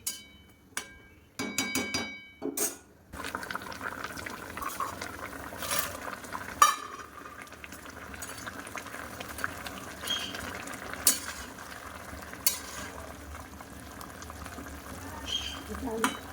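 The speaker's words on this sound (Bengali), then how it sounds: "এই যে পটলের তরকারিটা বসিয়ে দিয়েছি একটু গরম মশলাও দিয়ে দিয়েছি তো চলো এটা ফুটে গেলে" Pointed gourd curry seasoned with garam masala simmers in a pan, with a continuous soft bubbling hiss and, early on, sharp clinks and scrapes from a spoon and cookware.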